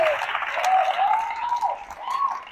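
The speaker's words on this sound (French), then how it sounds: "Je vous prie d'applaudir bien fort encore une fois pour ceux qui, s'il vous plaît, mesdames et messieurs" An audience at an awards ceremony in Côte d'Ivoire applauds in a moderate wash, with high, wavering whistles or shouts gliding over the clapping at close range.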